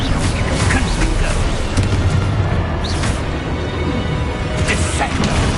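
A Confringo fire spell blasting during combat in Hogwarts Legacy, a loud sustained roar of booming magical impacts with crackling bursts over a dense battle din.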